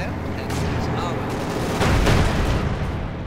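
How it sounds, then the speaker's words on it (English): Panzer IV tanks opening fire in the strategy game Company of Heroes 2, a dense rumble of battle blasts and gunfire that builds to a louder boom mid-way, with a commentator's voice running underneath. "Panzer IVs immediately open up, in this case though failed to hit"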